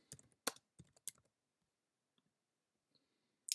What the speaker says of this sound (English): I'll type something new.